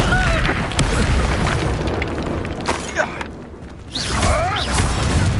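A Confringo fire spell bursts in a Hogwarts Legacy battle, a loud booming explosion with crackling fiery noise and whooshing effects. It runs dense and continuous, with a brief dip before another surge.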